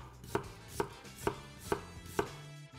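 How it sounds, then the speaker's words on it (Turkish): A 400 TL chef's knife chops an onion on a board: five crisp, evenly spaced knocks at a steady, unhurried rhythm, close and clear with no voices. "Son olarak da soğanımızı keselim."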